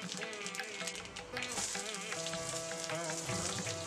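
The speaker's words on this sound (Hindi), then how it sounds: "थोड़ी सी तेल गरम करेंगे और लाल मिर्च, साबुत लाल मिर्च डालेंगे और डालेंगे जीरा और सरसों दोनों एक साथ।" Whole red chilies, cumin and mustard seeds sizzle in a little hot oil, a steady fine crackle with light popping, heard beneath sustained music.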